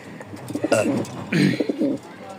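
Rajshahi Giribaz and long-tailed lakka pigeons cooing close by, two loud throaty coo phrases in quick succession with faint background noise.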